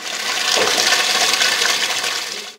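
Water gushes steadily from a hose onto an outdoor courtyard ice rink being flooded in winter, a loud continuous rushing spray that holds for the whole stretch without any voices.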